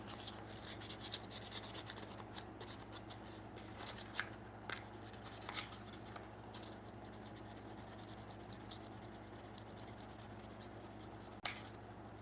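Metal chip breaker from an antique hand plane being rubbed and polished on a strop, a steady close scratchy rasping with brief sharper strokes over a faint constant hum.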